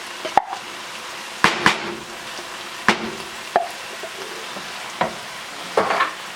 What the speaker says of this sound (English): The ground beef's pretty much well cooked. I'm going to add our refried beans